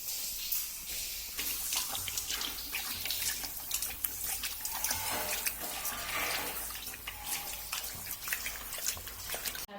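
Water runs in a steady, close hiss with small splashes and drips scattered through it, continuing without a break and with no voices.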